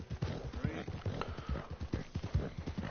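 Horse hooves clip-clopping at a brisk, regular walk in the Red Dead Redemption II video game, close and clear, with someone speaking over the steps.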